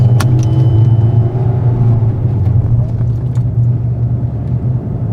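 Car driving along a road, a steady loud low engine rumble and tire drone from inside the cabin with faint light rattles, constant throughout.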